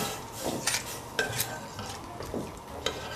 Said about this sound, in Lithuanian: Pieną reikia pastoviai maišyti, nes visi žinom, kas yra pienas.